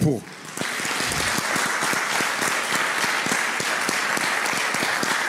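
Sustained applause from a church congregation, a dense wash of clapping with some sharper individual claps, steady and fairly loud after a brief lower-level start.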